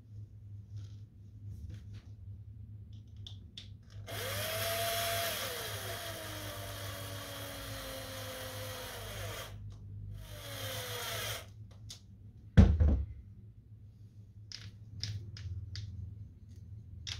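A power tool whirs steadily for several seconds, pauses, then runs again briefly while parts are screwed onto the rear differential of a Big Rock RC car. A sharp clack of handled parts follows, and a low hum runs underneath throughout.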